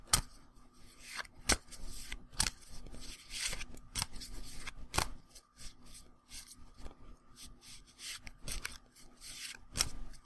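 A deck of sleeved Pathfinder Adventure Card Game cards shuffled at length: steady close rubbing and sliding, broken by sharp snapping clicks at irregular intervals, soft-spoken setting with no talking.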